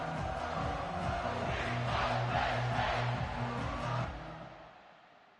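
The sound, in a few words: stadium crowd noise in video game College Football 25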